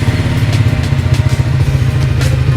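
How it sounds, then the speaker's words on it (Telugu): A Triumph motorcycle idling just after a morning cold start inside a showroom, a loud, close, steady engine throb with a fast even pulsing beat. "మార్నింగ్ కోల్డ్ స్టార్ట్ చేస్తే బైక్ ఎలా సౌండ్ వస్తుందో చూడండి"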